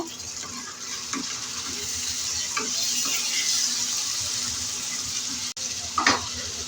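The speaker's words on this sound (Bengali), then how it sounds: "ঢাকনাটা খুলে আমি আবার নেড়ে দেব" Broiler chicken curry in a pot being stirred after the lid comes off, a steady close sizzle and bubble with soft scraping, then a brief clatter near the end.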